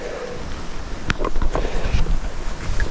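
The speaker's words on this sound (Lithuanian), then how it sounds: "tai nepatinka, kad vėjas, blemba vėjas, tai žiauriai man nepatinka" Wind gusts buffet the microphone at a campsite beside a small forest lake, a fluctuating rushing roar with a few faint knocks and rustles, no speech.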